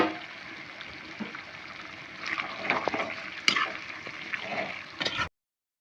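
Chicken fry with curry leaves stirred in a pan makes a steady sizzle with scraping and clinking spoon strokes that grow busier toward the end before cutting off abruptly.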